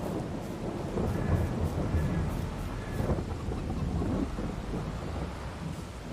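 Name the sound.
thunderstorm in Farming Simulator 22 video game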